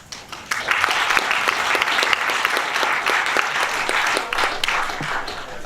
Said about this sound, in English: Come on, NEURUM Creek, you can clap much louder than that.